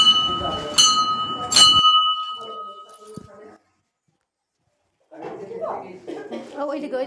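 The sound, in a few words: hand bell rung during Shiva puja at temple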